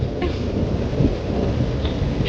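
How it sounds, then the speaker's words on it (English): Steady rain hisses alongside a low rolling rumble of thunder in a radio drama night scene, a dense continuous wash throughout with no voices. "It's starting to rain."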